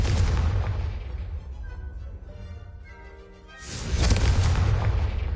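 A Confringo blasting spell explodes in Hogwarts Legacy, a loud booming burst that rumbles and fades over a few seconds before a second heavy blast surges in near the end.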